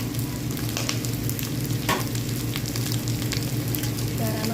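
Vegetables stir-fry in a pan with noodles for pancit, giving a loud, continuous close sizzle with scraping stirring noises and no talking.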